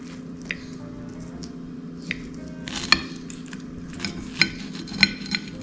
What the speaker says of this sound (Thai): หั่นให้ดูว่ามันกรอบขนาดไหน